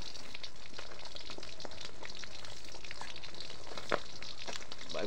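Fish fries in a pan with a continuous soft crackling sizzle and scattered sharper pops, steady and close for several seconds with no talking.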